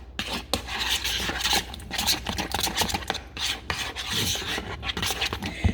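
Ricotta bake mixture being stirred in a bowl, a quick run of rough scraping and rubbing strokes in an uneven rhythm, close and fairly loud with no talk over it.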